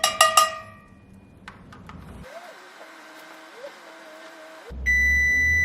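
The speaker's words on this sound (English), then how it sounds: "timer went off" A kitchen timer gives a few bright, sharp beeps at the start, then a quiet electronic hum with faint tones settles in and a low rumble joins near the end.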